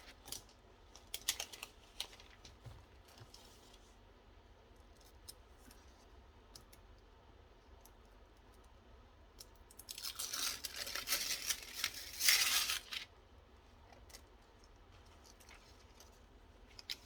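Scissors fussy cutting paper for a crafting project make faint, sparse snips early on, then a louder, dense burst of crisp cutting and paper rustling in the middle before fading back to quiet.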